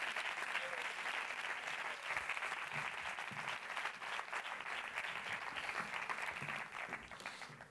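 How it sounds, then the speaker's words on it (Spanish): Sustained audience applause at a film festival closing award gala, dense steady clapping from a sizable crowd that continues unbroken throughout, fairly distant and even in level. "Por favor, un fuerte aplauso para él."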